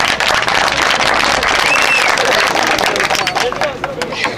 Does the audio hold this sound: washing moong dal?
no